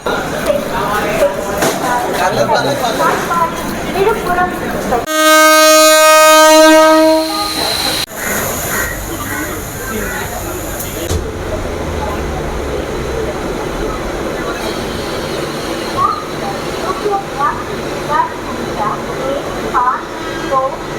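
A train rumbles past close by with rattling wheels, and a loud, sustained horn blares for a few seconds partway through before the rumbling continues.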